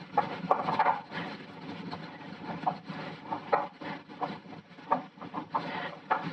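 Hands mixing pizza dough of all-purpose flour and yeast, giving soft irregular rubbing and patting noises with occasional sharper taps, close and moderately quiet, with no talk.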